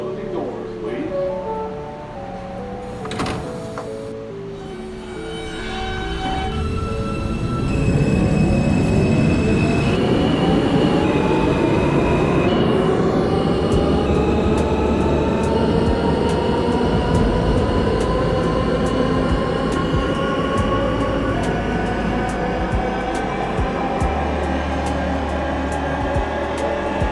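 Manhattan-bound Q local subway train in the OpenBVE simulator, starting with electronic chimes and tones, then the motor whine rises and steady wheel rumble and rail noise carry on loudly for the rest.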